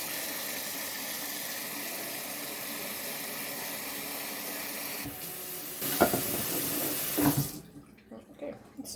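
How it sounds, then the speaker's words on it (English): Water running from a tap into a canning pot, a steady hiss and splash that stops abruptly near the end, leaving a few soft clanks and splashes. "I'm going to put just a little bit more water, just so I'm nice and sure"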